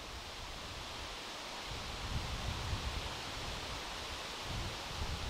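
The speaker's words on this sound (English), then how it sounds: "Wind's blowing up pretty good here." Steady outdoor wind rushes and buffets against the microphone, a broad continuous roar that swells a little in strength partway through, with no voices.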